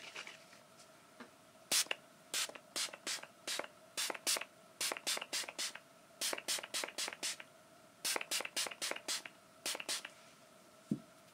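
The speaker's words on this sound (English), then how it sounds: "Now I'm going to fix all of that with this spray." Rapid bursts of a guava and rose cosmetic fixing spray mist, dozens of short hissing pumps in quick irregular clusters with brief pauses, close and fairly loud.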